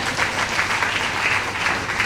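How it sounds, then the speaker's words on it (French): An audience of entrepreneurs at a regional panel event applauds, a dense steady wash of many hands clapping at once, loud and sustained throughout with no break. "Mais applaudissez-vous, les entrepreneurs."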